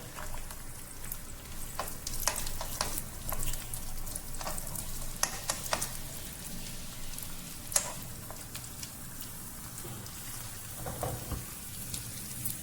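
Raisins fried in a pan while making ghee rice, giving a steady soft sizzle with scattered crackles and pops, close and fairly quiet, with no talk.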